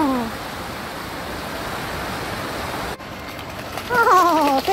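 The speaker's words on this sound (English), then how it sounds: "Only little tiny waterfalls." Small waterfalls at Tahquamenon Falls rush in a steady, broad wash of falling water close by, with a brief voice-like whine near the end.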